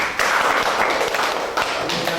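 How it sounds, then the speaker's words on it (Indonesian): A classroom group clapping together, a dense burst of close applause that runs steadily throughout with some voices mixed in. "Oke, tepuk tangan dulu."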